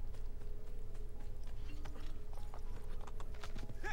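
Hooves of a horse in Assassin's Creed 2 clop steadily and close by, a continuous rhythmic beat over a low rumbling ambience with no talk.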